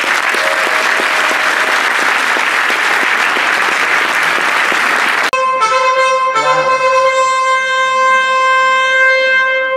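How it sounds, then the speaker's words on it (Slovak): Audience applause at a Slovak award ceremony for a championship, a dense roar of clapping filling the first half before it cuts off abruptly and sustained tonal music takes over. "Patrí vám obrovský potlesk."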